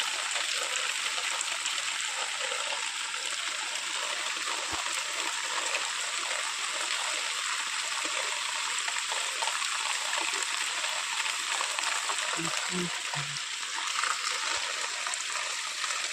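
Heavy rain pours steadily and loudly close by during a sudden downpour, a dense continuous hiss with a few faint low knocks near the end.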